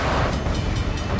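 Train running in Uncharted 4: The Lost Legacy, a steady loud rumble with faint rhythmic clatter of the cars, continuous and close with no talk.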